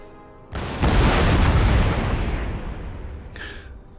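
Cannon fire in a Napoleon: Total War battle, a heavy booming blast that swells into a long rolling rumble lasting several seconds, with a brief sharper crack near the end.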